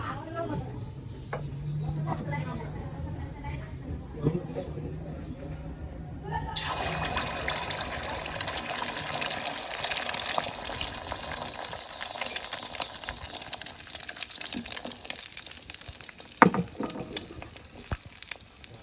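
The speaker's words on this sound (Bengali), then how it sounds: "কড়াইটা তাতার জন্য তেলটা গরম হয়েছে। এখন আমি ডিমটা দিয়ে দিব।" An egg drops into hot oil in a wok and bursts into a loud, steady hissing sizzle that carries on to the end; someone speaks quietly over the crackling oil beforehand.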